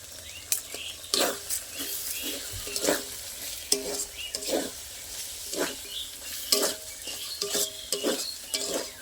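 Cumin, Kashmiri chili powder, salt and sugar are stirred and sautéed in oil for a paneer curry, with repeated scraping spoon strokes over a soft continuous sizzle.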